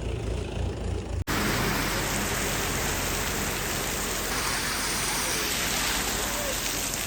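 A heavy outdoor rain downpour sets in abruptly after a short quiet start, then carries on as a dense, loud, continuous roar of falling water.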